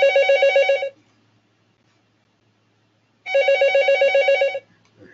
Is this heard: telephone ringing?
yes